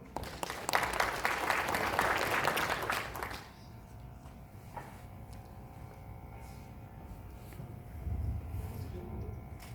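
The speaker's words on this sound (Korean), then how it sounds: "큰 박수로 맞아주십시오" An audience in a cultural hall at a farm policy briefing applauds to welcome a member of parliament, a loud burst of crowd clapping that stops abruptly, leaving quiet room tone and shuffling.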